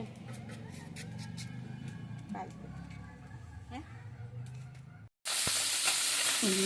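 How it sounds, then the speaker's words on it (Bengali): Small khalisha fish sizzling in hot oil in a pan with occasional stirring while a voice talks nearby, then a sudden loud burst of crackling frying near the end. "এখন কলসে মাছ ভাজা হচ্ছে"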